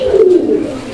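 A single pigeon coos once, close and loud, a short soft throaty note that slides slightly downward.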